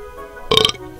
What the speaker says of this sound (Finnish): Anteeksi, että minä röyhtäisin.